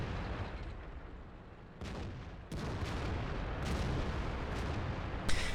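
An Orliks tank fires its gun at an enemy Pershing in a tank battle video game, several muffled booming shots over a constant engine rumble and battlefield noise, without talk.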